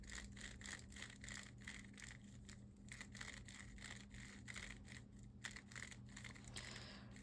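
A Tornado V3 speedcube turning: soft, continuous rustling and rattling of small plastic pieces, with quick clicky bursts repeating steadily, quiet and close, no voices.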